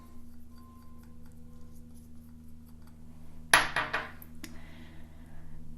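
Candelilla wax pellets drop into a heat-resistant glass measuring cup, a short burst of close, bright clinks and rattles that settles within about a second against a quiet background hum.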